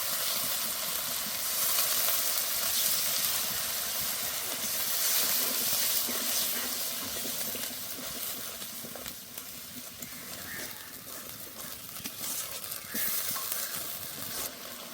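Cumin paste and dry red chili paste hit a hot pan with a splash of spice-rinsing water for chicken ghugni, giving a loud, continuous close hiss and sizzle with steam that eases slightly over time.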